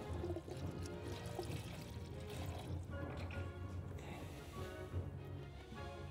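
Coolant pours and trickles from the removed thermostat housing of a Chevy Tahoe, a close, continuous liquid gurgle and splash into a container, fairly quiet and steady throughout.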